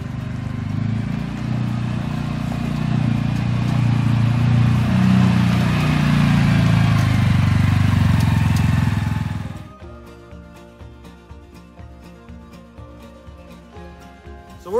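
A 2023 CF Moto 600 engine drones loud and steady while riding through a field, then cuts out abruptly around ten seconds, leaving only faint sounds afterward.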